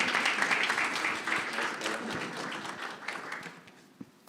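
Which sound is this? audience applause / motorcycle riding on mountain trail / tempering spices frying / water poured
audience applause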